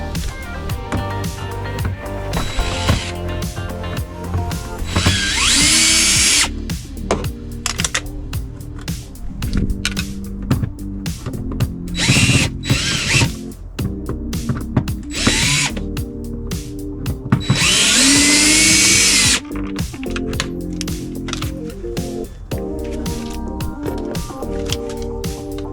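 Power drill backing screws out of a wrecked 2010 Toyota Camry Hybrid mirror assembly, close and loud, with repeated whirring bursts of a few seconds each separated by clicks and handling noises.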